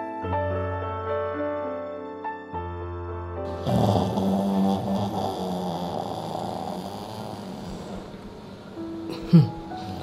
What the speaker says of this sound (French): il ronfle déjà comme ça